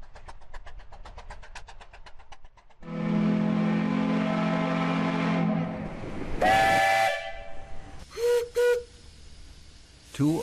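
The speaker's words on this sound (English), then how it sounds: "And it's got the coolest sounding whistle on earth." Steam whistle blowing at the Western Minnesota Steam Threshers Reunion, a loud sustained blast after some rapid mechanical chuffing, followed by shorter rising whistle toots, heard up close with a bit of background talk.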